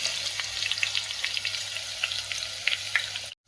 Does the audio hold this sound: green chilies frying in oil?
yes